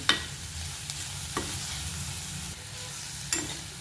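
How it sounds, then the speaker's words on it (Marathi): Chopped onion and green chili thecha sautéing in a pan, a steady close sizzle with occasional scraping clicks from stirring, no voices. "हे पहा छान असा कांदा आणि हा ठेचा छान खमंग परतून झाला आहे"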